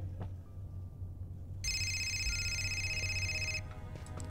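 A phone rings in the video game Fahrenheit: Indigo Prophecy, a bright electronic tone that sounds steadily for about two seconds over a low background hum, with no talk.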